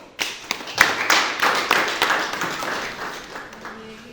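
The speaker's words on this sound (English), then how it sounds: "Let's welcome Josephine with a hand of applause" An audience claps to welcome a poet onto the stage, a close run of sharp, scattered hand claps that builds quickly and then thins out over a few seconds.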